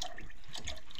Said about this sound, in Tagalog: So lagyan muna natin ng patis.